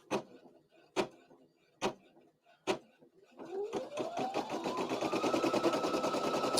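An embroidery machine runs an applique placement stitch: four sharp, evenly spaced clicks, then the motor whirs up into a steady, loud, rapid stitching chatter that keeps building.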